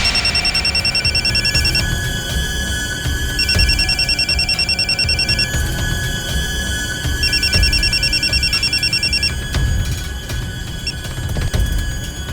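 A telephone rings in repeated bursts, each a bright electronic trill lasting about two seconds with short pauses between, loud and clear over a faint background hum.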